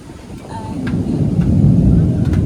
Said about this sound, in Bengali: হ্যাঁ মেঘ ডাকছে এখনও